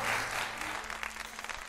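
A studio audience on a Turkish daytime matchmaking TV show applauds as a suitor walks in, with a short, fairly faint wash of clapping over steady background music.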